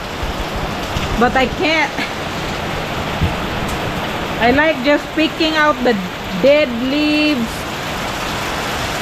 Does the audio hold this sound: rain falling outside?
yes